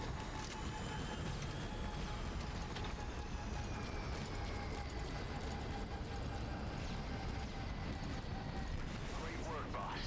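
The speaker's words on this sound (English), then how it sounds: "Great work, boss. The gunship is down." A gunship helicopter in Metal Gear Solid V: The Phantom Pain gives off a constant, dense rotor and engine drone with whining tones, loud and unbroken throughout, with some talk mixed faintly underneath.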